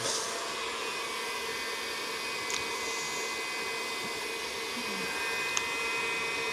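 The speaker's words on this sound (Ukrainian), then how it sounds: "Маю я такий технічний фен." A heat gun blows hot air onto an intercooler hose during a cheap repair, giving a steady broadband whooshing roar at close range that holds constant throughout, with no talk.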